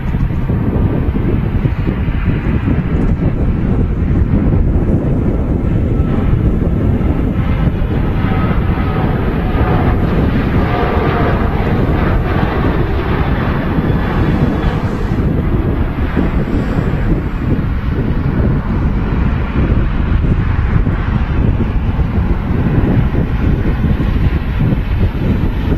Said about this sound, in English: So lined up and now rolling is the 20-year-old 737-900